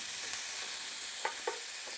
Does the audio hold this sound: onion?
yes